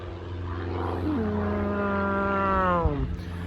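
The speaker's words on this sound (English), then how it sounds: "here comes a plane" A propeller aircraft passes overhead, its drone rising and then swooping down in pitch as it goes by, loud and continuous, with a faint voice beneath it.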